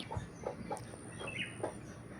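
A chicken clucks in short, separate bursts, close by and moderately loud, with a faint steady hum behind it.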